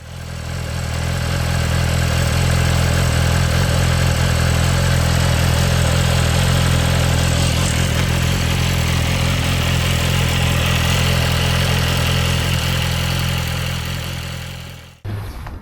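A 2025 BMW M 1000 XR Competition motorcycle idles steadily up close, its deep engine rumble loud and continuous throughout before cutting off abruptly near the end.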